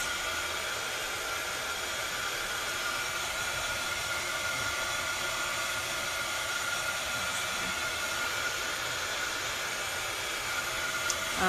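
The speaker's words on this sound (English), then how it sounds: "I don't know if you guys can hear me with my blow dryer." Blow dryer running continuously on a mixed media scrapbook layout, a steady broadband rushing hiss held at an even level throughout, close and moderately loud with no speech.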